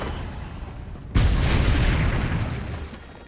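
A Confringo blasting spell from the Hogwarts Legacy video game erupts with a sudden loud boom after a quieter stretch, then a rumbling, crackling tail that slowly fades.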